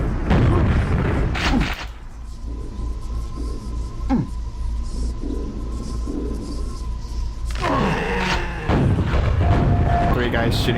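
Grenades fire and explode in the video game Quake, with heavy booming blasts at the start and end around a quieter stretch, and a voice talking over the gameplay.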